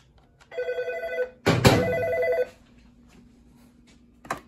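An intercom phone rings in two loud electronic bursts, each lasting about a second, separated by a sharp click. A brief click follows near the end, in an otherwise quiet room.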